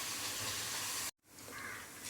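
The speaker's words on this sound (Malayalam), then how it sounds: "നമ്മളെ ലാസ്റ്റ് ചക്ക വറ്റലാണ് കോരിക്കൊണ്ടിരിക്കുന്നത്." Jackfruit chips fry in hot oil with a steady hissing sizzle that cuts out abruptly for a moment, then slowly builds back up, fairly quiet and with no talking.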